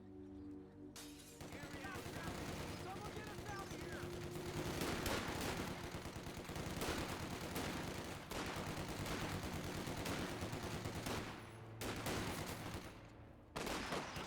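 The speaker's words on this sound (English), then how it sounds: "Grenadiers do get behind some good heavy cover there, firing away." Grenadiers firing from heavy cover in the World War II strategy game Company of Heroes 2, with dense, sustained rifle and machine-gun volleys crackling continuously under a commentator's voice.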